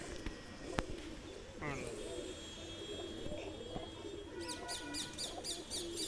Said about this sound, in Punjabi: ਲਓ ਜੀ ਆ ਲਾਸਟ ਕਬੂਤਰ ਆ ਵੀਰੇ